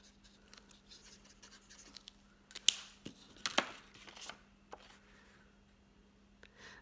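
A brush-tipped pen colors a stained glass card, giving faint, soft scratchy strokes and taps on paper in an irregular rhythm, close by, with a low steady hum behind them and no talk.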